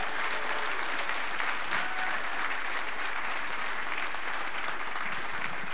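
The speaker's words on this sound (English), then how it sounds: "Can we give them another round of applause, please?" Steady, full round of applause from a crowd at a 2021 Bible college graduation service, loud and continuous throughout with no pauses.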